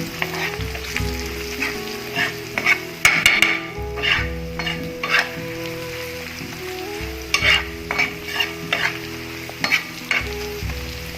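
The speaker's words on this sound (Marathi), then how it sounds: "हळद हिंग पुरासणीची चटणी आणि तीळ टाकून घेऊया मिक्स करून घेऊया" A spoon stirs turmeric, asafoetida, chutney and sesame seeds into vegetables frying in a pan, giving a steady sizzle broken by repeated scraping strokes; no voices.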